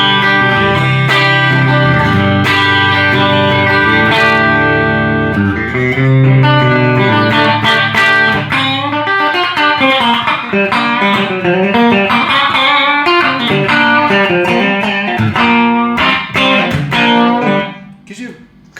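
A PRS SE electric guitar played through distortion with a humbucker and single coil combined in the middle pickup position, giving a Telecaster-like tone; a loud, sustained run of chords and riffs played alone.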